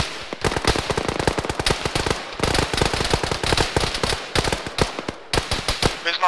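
Rapid automatic gunfire crackles in dense bursts during a military video game battle, loud and close, with short pauses between volleys.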